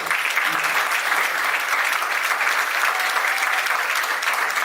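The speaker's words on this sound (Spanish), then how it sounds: "Un gran aplauso para don Antonio." A municipal book-launch audience in Pichilemu gives don Antonio a loud, dense round of applause, steady and sustained with no break, as many hands clap together.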